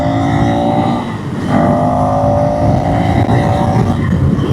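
A 2025 KTM 390 Enduro R motorcycle ridden off-road in off-road mode, its single-cylinder engine droning loud and close with a brief dip and a rise in revs, no talk over it.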